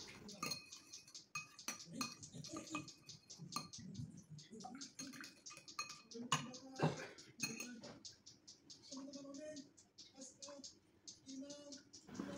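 A spoon stirs an oil and water mixture in a bowl for brushing dim sum wrappers, making soft clinks and scraping taps in an uneven rhythm, faint and close.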